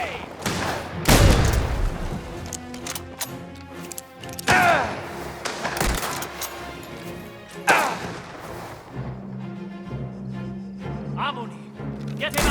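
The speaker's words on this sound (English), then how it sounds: "Right, dodging a grenade!" Grenade explosion and gunfire in the video game Mafia: The Old Country, with loud booming blasts and sharp shots at intervals among shouting and game dialogue, then quieter rumbling near the end.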